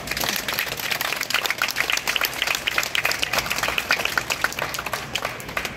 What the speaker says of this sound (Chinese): 我们给台南一个掌声好不好？